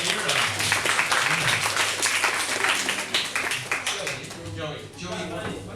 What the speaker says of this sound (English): Everybody, a big round of applause for Ira.